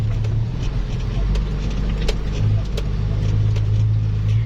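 A six-wheel truck's engine drones low and steady from inside the cab while driving, a continuous rumble with faint knocks and some talk over it.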